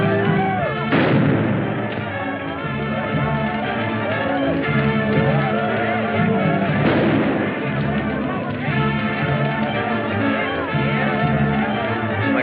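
Gunfire from a 1946 jungle adventure film shootout: dense, continuous volleys of shots and booming blasts fill the whole stretch, loud and close, with a couple of sharper bursts standing out and voices faintly mixed in.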